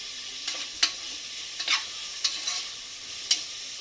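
Onion fries in a pan under a soft background sizzle, punctuated by about six sharp spoon strokes and scrapes at irregular intervals, close up with no voices.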